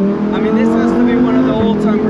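A loud, raw naturally aspirated engine of a Lamborghini Performante Spyder revs up with a rising, linear howl, close and dominant, its tone climbing steadily throughout.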